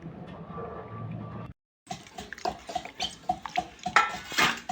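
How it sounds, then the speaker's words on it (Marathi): Water splashes and drips as country chicken is rinsed and handled in a bowl, with clinks of a vessel; a brief silent gap near the start. "सगळ्यात पहिलं चिकन धुवून घेऊ, मस्तपैकी स्वच्छ करून घेऊ"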